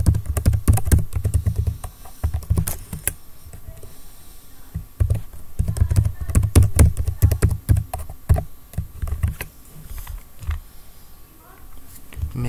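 Keys clatter in quick, uneven bursts as an email address is typed on a computer keyboard during Canva account sign-up, with brief pauses between runs and a voice speaking faintly underneath.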